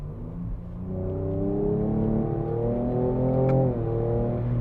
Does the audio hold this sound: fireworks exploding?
no